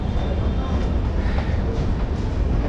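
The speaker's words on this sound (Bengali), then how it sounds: "দিল্লি থেকে দীর্ঘ 1292 কিলোমিটার অতিক্রান্ত করে দুর্গাপুর স্টেশনে আমরা ঢুকলাম" A sleeper-class passenger train from Delhi rolls into Durgapur station, its steady, close rumble and rattle of carriages filling the space without let-up and no voices heard.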